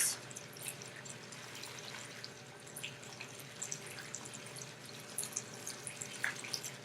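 A tap runs steadily into a sink during handwashing, a soft, continuous hiss with faint scattered drips and splashes, quiet and without talk.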